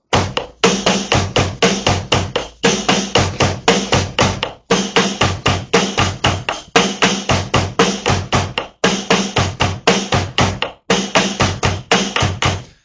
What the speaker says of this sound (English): So that's basically that drum beat.